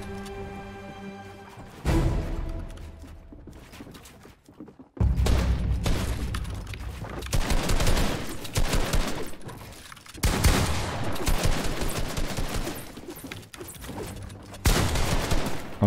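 Video game gunfire: rapid bursts of automatic shots and booming blasts, loud and dense, arriving in repeated volleys separated by brief lulls, with mechanical clatter between them.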